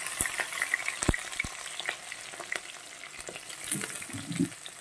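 Chopped garlic and green chillies fry in a pan with curry leaves for a dal tempering, giving a soft, continuous sizzle dotted with sharp crackles and pops, close by and fairly quiet, with no talking.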